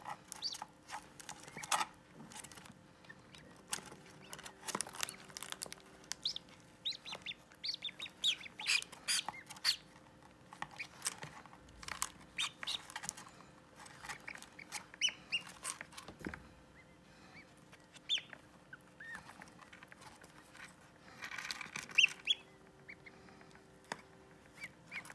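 Ducks in a school classroom setting make scattered soft quacks and chirps among light pattering and shuffling noises, faint and intermittent over a quiet background.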